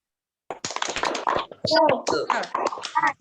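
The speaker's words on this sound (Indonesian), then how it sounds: "biar semangat kita tepuk semangat dulu ya" A class of schoolchildren doing the rhythmic 'tepuk semangat' clap, a sudden start of close, quick hand claps mixed with their chanting voices, lasting about three seconds.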